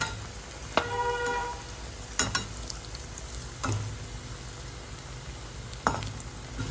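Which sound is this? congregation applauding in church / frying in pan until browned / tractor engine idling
frying in pan until browned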